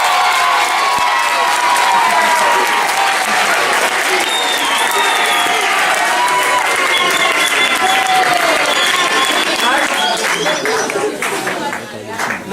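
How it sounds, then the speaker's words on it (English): Grade 11 students in a school hall clap loudly and cheer with shouts and whoops, a thick, sustained roar of applause and voices close by that tapers slightly near the end. "you give a round of applause for yourself."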